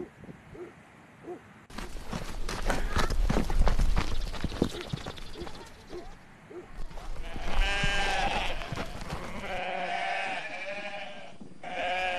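Sheep bleat repeatedly on a pasture, several wavering calls close by in the second half, with hoof clatter and rustling earlier and background noise throughout.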